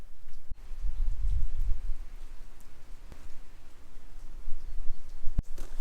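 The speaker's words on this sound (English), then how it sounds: "I am gonna wait out the rain still, because my gear's all wet," Rain falling in a park in Italy, a steady soft patter with low rumbling gusts and a couple of sharp knocks, no talking.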